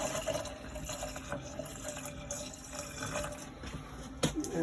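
Antifreeze poured down a camper drain while winterizing a living-quarters horse trailer, a continuous close gurgle and trickle of liquid with small splashes and a brief knock near the end.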